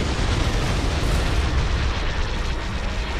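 Dense, continuous roar of blaster fire and explosions from a space battle in a Star Wars strategy game mod, loud and unbroken with rumbling booms layered throughout.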